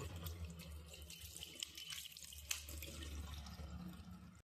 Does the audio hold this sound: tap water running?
yes